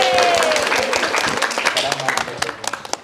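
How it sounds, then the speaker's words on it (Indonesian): A classroom of students clapping for a teacher, a crowded burst of claps that thins into a few scattered, sharper hand claps near the end, with voices mixed in underneath. "tepuk tangan dulu Pak Taufik"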